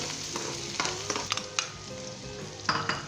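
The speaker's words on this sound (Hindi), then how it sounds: "2 मिनट तक हम इसे लाइट गोल्डन ब्राउन करेंगे, सरसों के ऑयल के अंदर अदरक को और प्याज को" Ginger and onion frying in mustard oil in a pan, with a continuous sizzle and repeated clinks and scrapes of a spoon stirring close by.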